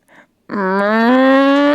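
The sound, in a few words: voice imitating mooing made during labour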